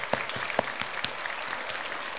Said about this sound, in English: Shall we give Corky a clap?